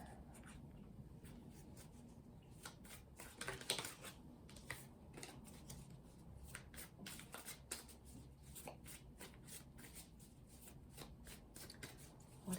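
Tarot cards shuffled close up, a quick, continuous run of soft riffling and slapping card flicks, fairly quiet and steady throughout with no voices.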